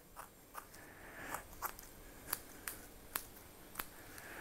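Scissors snip through motorcycle exhaust packing material in a quiet room, a series of about eight short crisp cuts spaced unevenly, close and soft.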